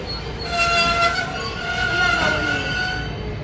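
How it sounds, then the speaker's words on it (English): A Washington Metro Blue Line train arriving at a station, a steady rumble with a sustained tonal hum and whine building and holding; no talk. "Train arriving."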